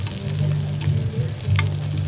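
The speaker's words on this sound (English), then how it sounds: "We're going to fry the black pudding" Black pudding fries in a hot pan at a food festival cooking demonstration, a loud, continuous crackling sizzle with small pops and occasional stirring scrapes, close by and without talk.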